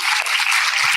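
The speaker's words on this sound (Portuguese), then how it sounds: "A plateia bate palmas." An audience applauding at a live talk event in Araxá, a continuous wash of clapping from many hands that holds steady and fairly loud through a brief moment.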